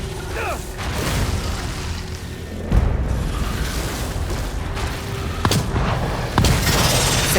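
Gunfire in the horror video game The Evil Within 2, played in Classic Mode: a few heavy booming shots at irregular intervals over a dense, rumbling mechanical game background.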